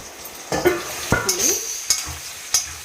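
A spoon stirs pepper potato fry in a pan, with a handful of distinct scraping strokes over a light sizzle, close and fairly loud, with no talking.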